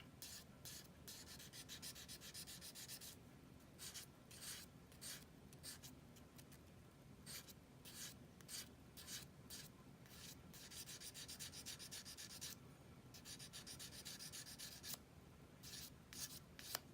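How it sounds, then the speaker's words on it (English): Metal on a P08 Luger trigger part being sanded with 1000 grit sandpaper, producing close, rhythmic back-and-forth rubbing strokes in repeated bursts with brief pauses, and no talking. "using some 1000 grit sandpaper. Polish that surface back up."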